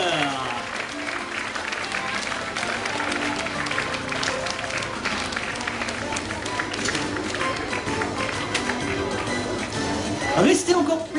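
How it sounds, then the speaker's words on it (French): Audience at a sea lion show at Nigloland amusement park applauds steadily throughout, a dense continuous patter of many hands with crowd noise and a few louder bursts near the end, under scattered voices. "je vous demande de les raccompagner sous très leurs applaudissements"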